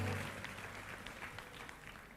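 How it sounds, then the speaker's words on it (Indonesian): Children clapping their hands during a Sunday church service, a short burst of applause that tapers off quickly at moderate volume. "Tepuk tangan adik-adik."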